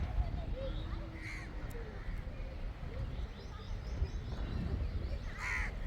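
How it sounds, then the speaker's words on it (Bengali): Two or three crows caw harshly in several separate calls while harassing another crow outdoors, over a constant low background rumble. "দুই তিনটি কাক মিলে খুব অত্যাচার করছে"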